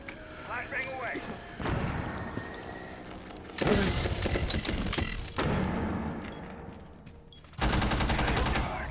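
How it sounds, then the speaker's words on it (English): In a video game, a flashbang grenade is thrown amid bursts of gunfire and sharp booms, with abrupt loud blasts separated by quieter stretches, while game voices speak over the action. "Flashbang away."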